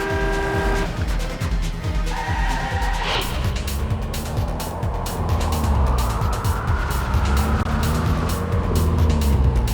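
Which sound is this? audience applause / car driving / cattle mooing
car driving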